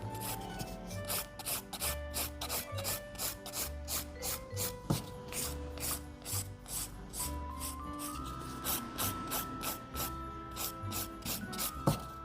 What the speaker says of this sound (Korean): 올려진 이 울퉁불퉁한 부분을 화일로 다듬어 줄 거예요.